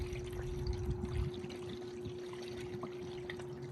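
Water pours and trickles through the cleaned filters of a running Arctic Spa hot tub, a continuous soft splashing flow over a steady pump hum, nearby and alone.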